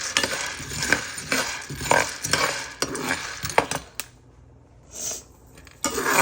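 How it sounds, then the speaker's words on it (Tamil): Green chickpeas dry-roasting in a pan over medium heat, stirred so the hard dried legumes rattle and clink against the metal in busy scraping bursts, then a near-silent pause with brief clinks before stirring resumes. "நீல பச்சை கடலையை மீடியத்தில் வந்து வறுத்துடுவோம்."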